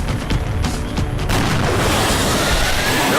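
Gunfire from the video game XCOM: Enemy Unknown, a loud booming shot followed by a sustained rumbling, noisy tail that fills the rest of the moment.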